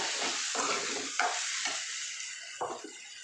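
Coriander-cumin powder is stirred into a frying greens curry in a pan, with soft sizzling and a few scraping strokes of a spoon, quiet and close.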